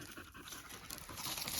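A dog searching for koalas pants quickly and rhythmically close by, the soft breathy puffs fairly quiet and continuing without pause, with no talking.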